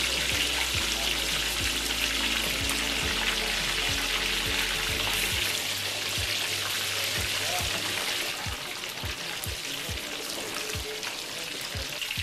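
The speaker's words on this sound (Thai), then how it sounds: "เราตั้งกระทะให้น้ำมันร้อนก่อนนะคะ แล้วเราก็นำปลา" Steady, loud sizzling of tilapia frying in hot oil in a pan, with scattered small crackles and pops throughout and no talking.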